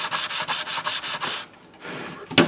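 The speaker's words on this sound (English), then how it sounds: "Sand block." A sanding block rubs wood during a German mantel clock repair, making about seven quick, even rasping strokes. A short pause follows, then a softer rub and a sharp scrape at the end.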